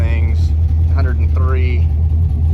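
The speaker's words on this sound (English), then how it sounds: "The truck's not been shut off since we made our drive home" A 1986 Chevrolet C10 square-body pickup idles steadily, a deep constant engine rumble close by while people talk over it.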